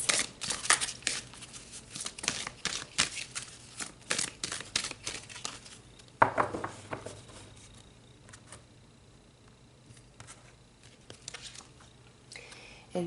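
Tarot cards being shuffled and drawn, a rapid run of crisp close riffling flicks for several seconds, then a sharp slap and sparse, quieter card handling afterward.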